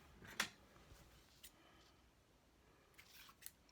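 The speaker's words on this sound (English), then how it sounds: "So I'm just going to cut that." A single crisp snip of scissors cuts through freshly glued ribbon, followed by a few faint clicks and handling noises in a quiet room.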